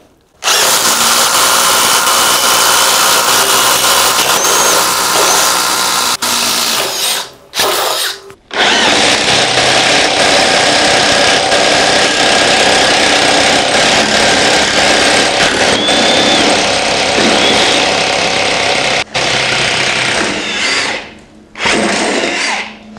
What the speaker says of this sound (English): Alright, we got a 7/8 spade bit.